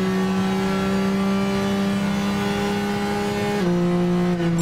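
Race car engine from Gran Turismo 6 holding a loud, steady high-revving drone, then shifting to a lower pitch near the end as the car slows into a corner, with no talk over it.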